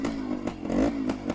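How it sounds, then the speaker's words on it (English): A 1974 Suzuki TS250 two-stroke motorcycle engine idles and blips close by, a buzzing, popping rasp with regular sharp pulses and a brief rise in revs, heard alone. "How can you not enjoy that sound of a lovely two-stroke oil engine?"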